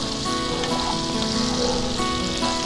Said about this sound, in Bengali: এবার আলুটা সামান্য ভাজা ভাজা করে নেব